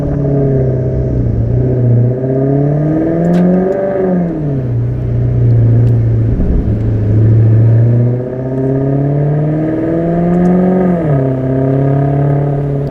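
Loud, close exhaust revving of a 2015 Maserati GranTurismo in manual mode with exhaust valves open, rising and falling in several throaty pulls with a deep rumble between.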